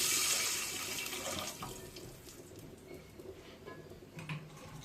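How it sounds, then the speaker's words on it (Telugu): Water splashes and pours into a cooking pan of upma made with turmeric and ginger, giving a continuous, fairly soft rushing patter with no speech. "వాటర్ యాడ్ చేస్తున్నాడు."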